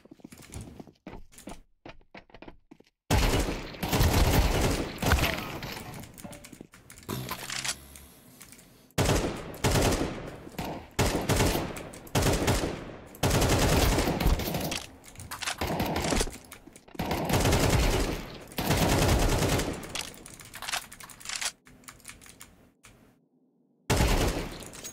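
Rapid bursts of automatic gunfire from Counter-Strike 2, fighting bots in repeated loud clusters separated by brief quiet gaps, close and punchy with a few isolated single shots.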